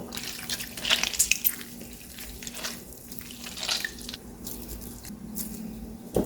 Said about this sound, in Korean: 먼저 일단은 이렇게 물기를 쪽쪽 짜줍니다.